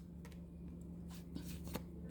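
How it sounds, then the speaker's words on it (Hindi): Tarot cards being shuffled and drawn for a love reading, a soft, quiet riffle of card edges with light flicks and taps against a steady low background hum. "मैं थोड़े से आपके पार्टनर के लिए कार्ड निकाल लेती हूँ।"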